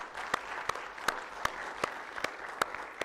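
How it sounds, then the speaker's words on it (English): A conference audience applauds with a soft continuous patter of clapping, punctuated by sharp, evenly spaced loud claps near the microphone about every third of a second. "please, a big round of applause for our colleagues right in the back"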